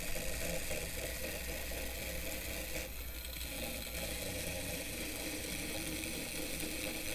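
A Mainline model train locomotive motor runs on the bench, giving a steady, close, rather noisy whirring hum with a faint rattle, heard alone without talk.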